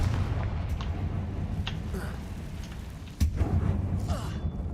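The Confringo spell in Hogwarts Legacy bursts into loud, booming explosions over a rumbling game backdrop, with a sharp blast near the middle followed by continued crackling impacts.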